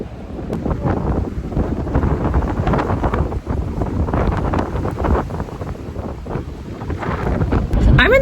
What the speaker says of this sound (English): The RV is shaking. Because it's so windy outside